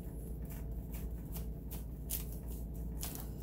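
A knife saws through a chicken croissant sandwich with tomato, making several short, crisp rasping crunches of flaky pastry in a quiet kitchen.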